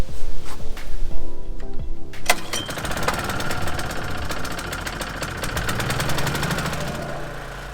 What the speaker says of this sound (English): Been a while since I've used this mower. Should be ready to go, set to 5/8 and ready to cut.